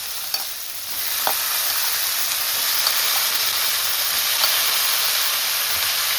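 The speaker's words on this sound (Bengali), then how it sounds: "আলুটা একটু ভাজা হয়ে গেছে। এখন দিয়ে দিচ্ছি বেগুন।" Potato and eggplant sizzle in a pan of oil with an even, close hiss that swells after a moment and holds steady, with a few light utensil taps against the pan.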